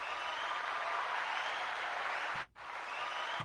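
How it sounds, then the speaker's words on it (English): Steady cheering and applause from a crowd, dense and continuous, broken by one brief dip before resuming at full strength. "just cheering for her presence"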